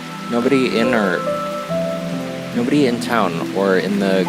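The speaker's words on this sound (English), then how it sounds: "It's starting to rain." Rain falls in the video game Root Letter, a steady soft patter under a voice and tonal game music throughout.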